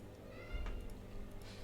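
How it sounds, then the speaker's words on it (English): A pet cat gives a faint, brief meow as it is let indoors, heard once against a quiet room background. "Sorry, I need to let my cat in."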